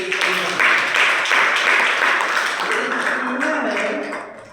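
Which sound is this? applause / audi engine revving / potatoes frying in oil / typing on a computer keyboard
applause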